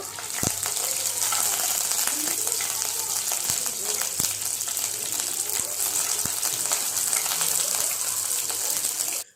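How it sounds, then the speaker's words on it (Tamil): Curry leaves and fennel seeds sizzle in hot groundnut oil for a spicy squid fry tempering, a dense, steady crackling hiss close by and fairly loud, with a few sharper pops. "கருவேப்பிலை போட்டு தாளிச்சிட்டு"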